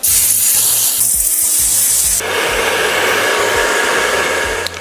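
Lace adhesive is sprayed onto a wig hairline as a steady close hiss, over a continuous loud blowing drone like a hair dryer; the noise shifts and brightens midway, with no talking.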